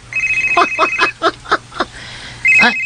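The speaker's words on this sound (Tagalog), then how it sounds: "miiyagak man cellphone ko" A cellphone rings with a bright repeating electronic tone, then a rhythmic patterned ringtone of short pulses, loud and close, with the tone returning at the end.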